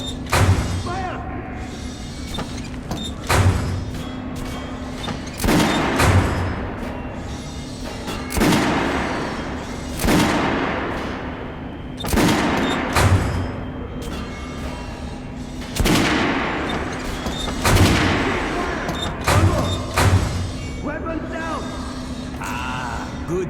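Gunfire rings out in Metro Last Light Redux, about a dozen heavy single shots spaced a second or two apart, loud and booming with echoing tails, while a voice speaks between them.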